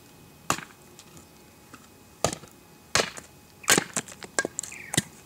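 Sharp, woody chops and splintering cracks from a Gransfors Small Forest Axe splitting very hard wood into kindling, one-handed; several isolated strikes, then a quicker cluster of close, loud hits.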